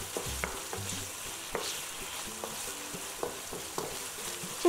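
Pork stir-fried in a hot pan with fish sauce, oyster sauce and sugar for Thai basil pork gives a steady close sizzle, broken by repeated scraping stirring strokes, with no voice.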